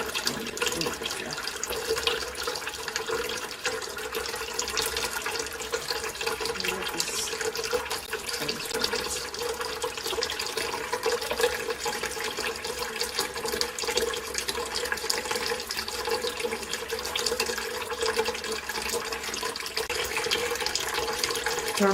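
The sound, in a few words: running tap water rinsing cyanotype prints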